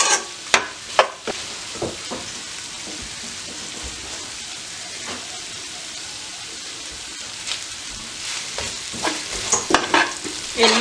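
Meat for Marai Pirattel sizzles in a pan with a steady frying crackle, while a spatula scrapes and clacks against the metal in scattered strokes, busier at the start and end.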